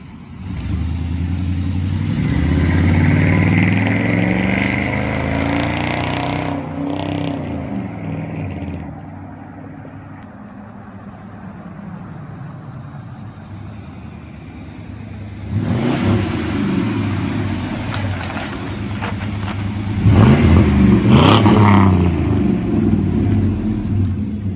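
Ford OBS truck with true dual exhaust and no X pipe or catalytic converters revs loudly, deep throaty bursts rising and falling with a quieter idle stretch between, near and unaccompanied by talk.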